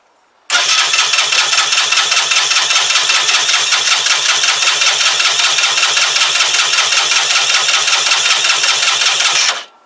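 A Keeway RKV125 motorcycle engine starting on choke: it catches abruptly and runs at a loud, steady fast idle for about nine seconds, then cuts out.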